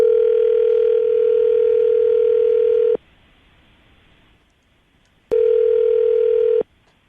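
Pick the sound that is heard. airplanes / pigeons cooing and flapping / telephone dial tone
telephone dial tone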